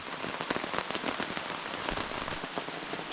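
Rain drumming on a tent in Lithuanian wilderness, a dense continuous patter of drops on the fabric, close and steady, with no voices.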